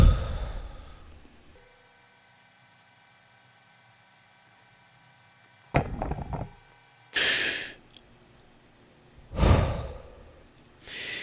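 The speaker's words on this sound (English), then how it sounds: "pretty much hold it as long as I could until it got extremely uncomfortable, and then inhale" A person holds their breath in near silence for several seconds, then releases it with a short burst of rushed breathing followed by two loud, deep inhalations close to the microphone.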